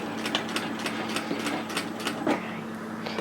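Sewing machine stitching a back tack at the start of a cardigan pocket seam, a quick run of close, even stitch taps with a low motor hum beneath, heard alone.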